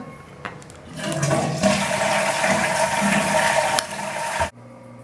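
A toilet flushes loudly nearby, a rushing swirl of water lasting a few seconds before cutting off, leaving a faint refilling trickle.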